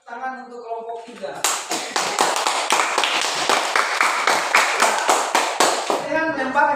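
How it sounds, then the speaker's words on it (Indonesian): Students in a school classroom clap for a presenting group, a dense burst of hand claps lasting several seconds with a voice before and after it. "Oke, berikan tepuk tangan untuk kelompok 3."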